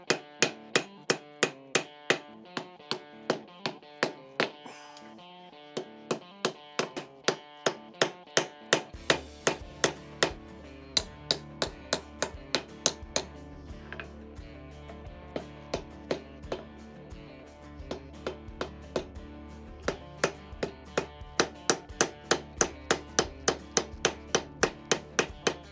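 Steady rhythmic hammer blows ring out on hand-forged metal as the edges are textured, a long run of sharp, evenly spaced metallic strikes close by, with a low droning hum joining partway through.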